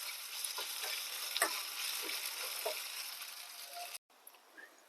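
Ground red chili sizzles in hot oil for a dal tempering, a continuous close frying hiss with a few small pops and stirring clicks, cut off briefly near the end before a quieter sizzle resumes.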